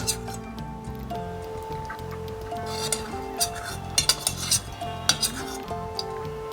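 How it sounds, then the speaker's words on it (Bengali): Four spoonfuls of homemade sour yogurt are whisked with a spoon in a bowl, making quick, uneven metallic clinks and taps close by over a faint tonal background. "এই 4 চামচ টক দই আমি একটু ফেটিয়ে নেব।"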